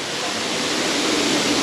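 A waterfall at Busch Gardens Tampa rushes in a steady, broadband wash of falling water, continuous and fairly loud with no voices over it.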